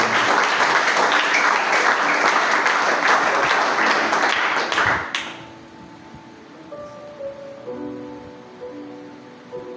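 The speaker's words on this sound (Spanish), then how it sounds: "Aplausos fuerte al Padre." A church congregation applauds loudly for about five seconds, dense clapping that stops sharply, followed by quiet room sound with soft tonal music in the background.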